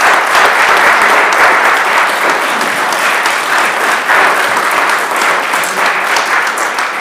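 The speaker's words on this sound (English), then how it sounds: "Kim, I give you a round of applause." Applause from an audience at a police chief swearing-in ceremony, a sustained, dense clatter of clapping hands heard up close, continuous throughout without voices.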